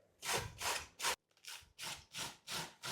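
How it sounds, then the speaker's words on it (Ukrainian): Young cabbage is rubbed down a hand grater in steady rhythmic strokes, seven or so scraping passes, close and fairly quiet, with no talk. "Просто беремо і ось так натираємо."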